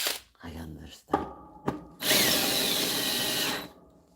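A power drill drives screws in a loud, steady whir lasting about a second and a half, after several short bursts and talk.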